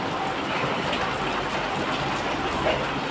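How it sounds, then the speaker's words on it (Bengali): Heavy rain pours down outdoors as a dense, continuous wash of hiss and patter, loud and close throughout. "প্রচণ্ড বৃষ্টি হচ্ছে"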